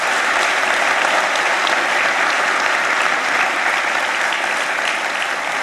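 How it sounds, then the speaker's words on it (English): A hall full of people at an academic year opening ceremony applauds the mayor, a loud, dense and steady wash of clapping that holds evenly for several seconds with no speech over it. "I think you deserve another round of applause for John Joritsma, our mayor."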